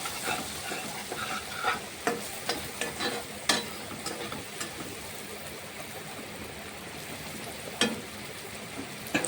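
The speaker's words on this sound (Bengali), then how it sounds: "পেঁয়াজগুলোকে ভালোভাবে ফ্রাই করে নেব" Onions dusted with spice powder fry in a pan with a continuous soft sizzle and crackle, while a spoon scrapes and clatters through them in uneven bursts.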